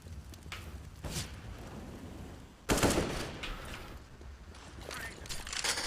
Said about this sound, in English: Are you guys shooting me?